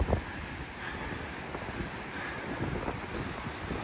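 Breakers and surf at the outlet of Durras Lake on the Murramarang coast, heard as a steady broadband wash of waves with strong wind buffeting the microphone, continuous and fairly loud throughout with no talk.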